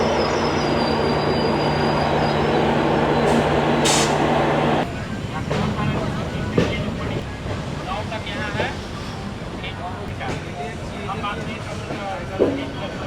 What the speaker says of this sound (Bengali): আমরা এখন ছেড়ে যাচ্ছি হাওড়া স্টেশনের 9 নম্বর প্ল্যাটফর্ম থেকে